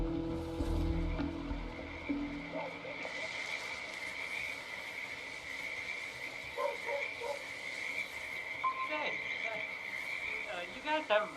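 Frogs croak near a creek habitat behind a house in the game Hitman 2, a steady chorus of calls over a low ambient bed, with some sporadic chirps and brief voices in the background.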